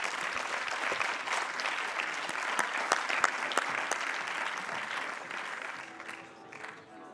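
An audience at a CityLab 2016 project presentation applauds the Capgemini team with dense, continuous clapping from a crowd that fades toward the end.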